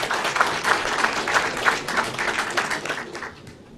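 An audience at a European business angel network congress breaks into applause, close and lively with distinct claps at first, then gradually tapering off.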